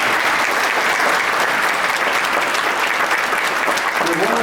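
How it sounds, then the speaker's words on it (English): An audience at a school alumni event applauding award recipients, dense sustained clapping from a full room throughout. "another round of applause to all of those award recipients."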